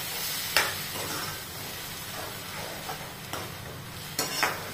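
Green chickpea bhaji with tomato puree sizzles softly in a pan over low heat, a steady frying hiss broken by a few sharp scrapes and stirs of a spoon.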